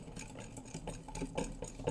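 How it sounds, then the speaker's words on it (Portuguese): A whisk stirs vanilla-scented cake batter in a bowl, giving a steady run of soft scraping, sloshing strokes with faint clinks against the sides, close up and alone. "E vou misturar aqui tudo muito bem"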